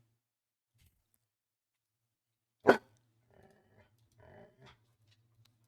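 A dog gives one sharp, loud bark close by, followed by a quiet stretch with faint scattered sounds and a low hum.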